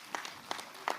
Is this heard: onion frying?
no